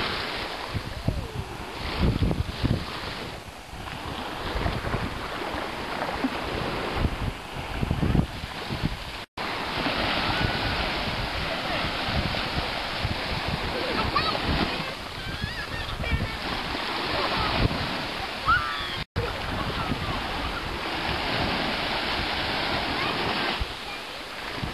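Ocean surf rolls onto a beach in a steady, loud wash of breaking waves, heavy with wind buffeting the microphone, with voices faintly present beneath the roar.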